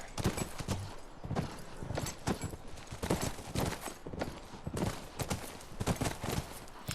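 A horse gallops in The Last of Us Remastered, its hooves pounding in a quick, driving rhythm that stays close and loud the whole time, with occasional sharper thuds.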